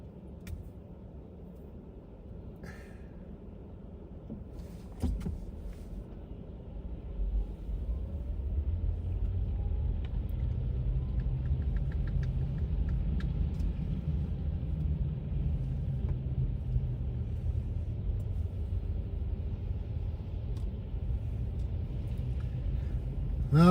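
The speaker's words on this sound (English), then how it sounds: "I'm just sitting here in traffic." Car traffic on back roads between Creemore and Orangeville, heard from inside a vehicle stuck in slow traffic: a steady low engine and road rumble that swells and holds, with occasional faint clicks and no talking.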